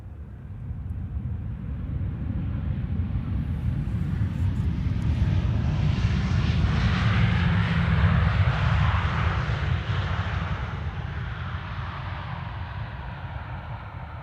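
A Galita Air airplane arriving at Amsterdam Schiphol Airport produces a loud, continuous jet roar that swells toward the middle and slowly fades as it passes, with no talk over it.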